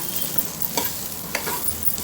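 Potato curry frying in a pan as chili powder is stirred in, with a soft sizzle under a few brief scraping strokes of the spoon against the pan.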